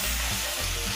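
Garlic cloves and chopped green chillies sizzle steadily in hot oil in a pan, a close, continuous frying crackle with a low stirring rumble and no voices.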